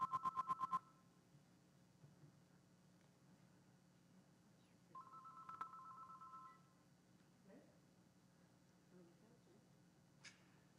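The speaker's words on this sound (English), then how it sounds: "So this is the first time the phone has rang" A telephone rings faintly in a council meeting room, a quick rattling burst at the start and another shorter trill a few seconds later, with low room hum and scattered small noises between.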